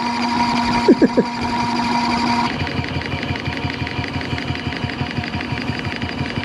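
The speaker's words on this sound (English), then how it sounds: "put it on spin dry. You see a little basket spinning around there." A small washing machine motor whirs steadily, then settles into a rapid rhythmic thumping hum as the drum spins.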